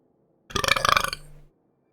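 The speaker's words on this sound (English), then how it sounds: "It's nothing compared to some of the times I've burped." One loud, close burp lasts about a second, rough and pulsing with a rattling, throaty texture, then fades into silence.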